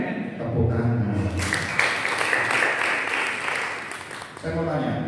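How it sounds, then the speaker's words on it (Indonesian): A church congregation claps together in a dense burst of applause lasting several seconds between stretches of a preacher's speech. "Tepuk tangan."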